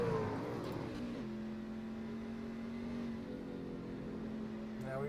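A race truck engine in a racing video game hums on light, careful throttle, holding a steady drone after an early dip in pitch, with a faint rise and lift in revs near the end.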